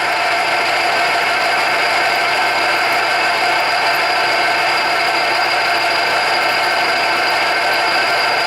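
A power drill whirs steadily and loudly without pause, a constant high buzzing hum with no voices.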